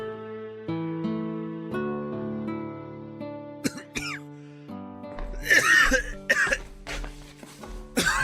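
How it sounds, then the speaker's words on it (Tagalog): Several harsh coughs in quick bursts, fairly close, breaking into a held musical tone playing underneath. "Mukhang masama na yung ubo mo ah."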